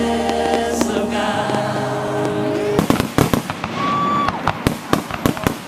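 New Year fireworks on the island of Jamaica crackle and pop in a rapid, irregular string of sharp bangs over a background rumble, with a whistling rocket rising partway through, loud and fairly close.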